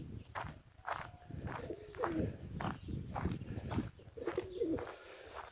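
Smoky-coloured pigeons cooing, with soft repeated coos close by, a few faint chirps and some light shuffling steps, and no talk.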